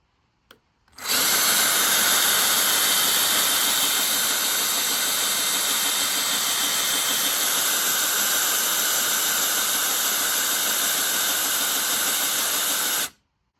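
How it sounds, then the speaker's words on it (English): A power drill bores a hole through a snowblower part, starting abruptly and running at a steady, loud, high-pitched whine for about twelve seconds close by, then cutting off sharply; no voices. "So we got to try to drill a hole through there."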